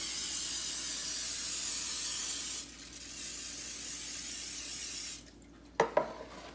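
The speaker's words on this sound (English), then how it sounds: "we're going to take some pan spray, and we're going to spray the" Two long hissing bursts of cooking spray into a pan, close and loud, separated by a short pause, followed by a couple of light clinks of the pan.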